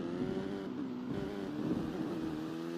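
Car engine droning steadily in Driving Empire, a Roblox driving game, with a sustained harmonic hum that holds a constant level and rises slightly as it revs, alone with no voices.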